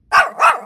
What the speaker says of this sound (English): Anya, look, there's a tiny dog.